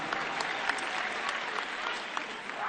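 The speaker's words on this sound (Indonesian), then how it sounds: "Beri tepuk tangan untuk seluruh jajaran Amanat Indonesia." Audience applause at a political speech honouring party officials of Amanat Indonesia, a steady crowd clapping with a few sharper nearby claps standing out, fairly loud.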